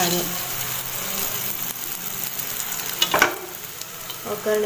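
Tempering spices crackle and sizzle in hot oil for rice dumplings, a steady frying hiss with a sharp spatter burst near the middle and faint stirring.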